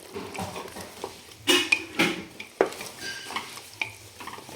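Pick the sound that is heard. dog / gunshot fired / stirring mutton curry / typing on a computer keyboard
stirring mutton curry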